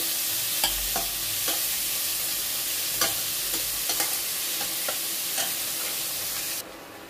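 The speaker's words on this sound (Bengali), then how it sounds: "এরপরে এখানে টমেটো কুচনো 2টো দিয়ে দিচ্ছি, দিয়ে ভালো করে আবার মশলাটাকে কষে নেব" Spice masala with two chopped tomatoes stir-fried in a pan for a spinach curry, a steady sizzle with scraping spatula strokes at irregular intervals, close and alone without talk.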